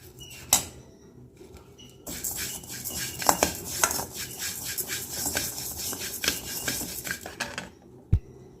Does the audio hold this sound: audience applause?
no